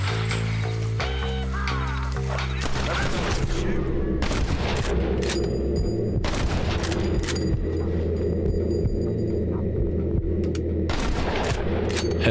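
Gunfire in the video game Red Dead Redemption on PS5, a run of loud shots and bursts over an ongoing game soundscape with music, dense and continuous across the clip.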